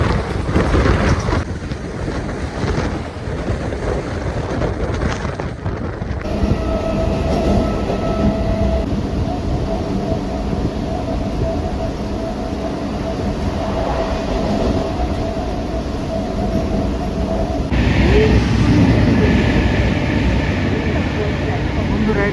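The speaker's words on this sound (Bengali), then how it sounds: "এটা চলে যাচ্ছে কলকাতা থেকে গুয়াহাটি আগরতলা গরিবরথ এক্সপ্রেস" The Kolkata–Agartala Garib Rath Express rumbles past at night in a long, loud, continuous roar of wheels and carriages, with a steady whine, wind buffeting and a person speaking briefly early on.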